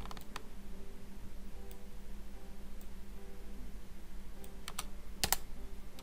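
Faint, sparse clicks of computer keyboard keys over steady background hiss, with a quick cluster of taps near the end.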